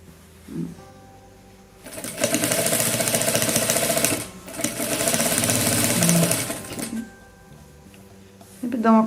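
A sewing machine stitching denim for a jeans bathroom set runs in two loud, rapid bursts of whirring needle chatter, with brief pauses, soft handling clicks and someone speaking quietly around the stitching.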